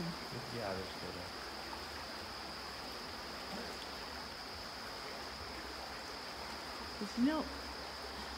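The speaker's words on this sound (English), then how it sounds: "the river's running stronger than it was earlier" A river runs strongly outdoors, making a steady, broadband rushing wash at low level throughout. A voice speaks briefly at the start and again near the end.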